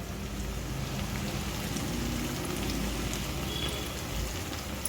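Ground spice paste mixed with turmeric is dropped into a pan of browned fried onions for a fish curry, filling the kitchen with a steady, even hiss of sizzling oil and no voices.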